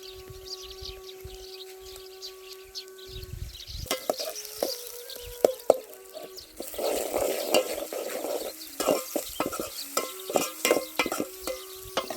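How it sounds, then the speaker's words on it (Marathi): Garlic fries in oil in a pan on a wood-fired stove, with scraping and stirring in repeated bursts over a steady sizzle, close and fairly loud with no talking. "हे बघा है हे लसूण टाकून घेत आहे मी"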